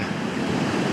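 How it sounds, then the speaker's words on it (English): Big ocean waves surge and wash onto a beach at night while someone fishes from the shore, giving a steady, loud roar of surf with wind noise and no pauses. "The waves are too big for the rigs I'm using, for the weights."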